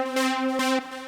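A single MIDI note from the Cthulhu chord and arpeggiator plugin plays a bright synth tone with rich harmonics, retriggered in three quick steps, loud and alone.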